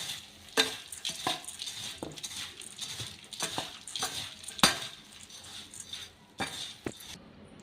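Masala churumuri puffed rice being stirred and tossed with peanuts and a sprinkling of roasted gram powder, a run of crisp scraping and rustling strokes with occasional sharper clinks from the bowl and spoon, close and fairly quiet.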